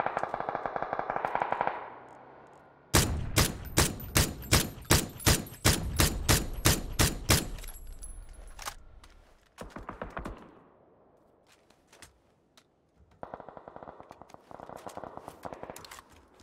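Rapid semi-automatic SKS rifle fire in PUBG, a tight burst of about a dozen loud, evenly spaced cracks, with quieter in-game sounds before and after.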